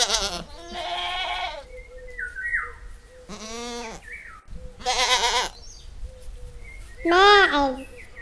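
A goat gives four wavering, nasal bleats, spaced apart and close, over a faint background.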